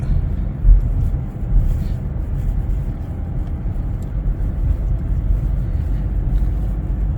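A car hauler truck drives along with a steady low engine and road rumble, loud and continuous inside the cab, no one speaking.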